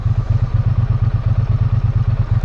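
A vehicle engine left idling at a roadside stop on a California road trip between San Simeon and Santa Cruz, a close, steady low throb with an even rhythmic pulse and no talk.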